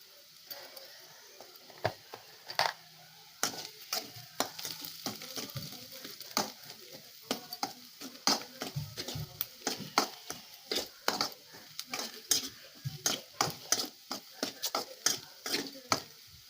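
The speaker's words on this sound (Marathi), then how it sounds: "मसाले सुद्धा तेलात परतून घेऊया।" Spices sizzle and fry in hot oil with okra for masala bhendi, with steady crackling and frequent sharp clicks of a spoon stirring against the pan, moderately quiet and close.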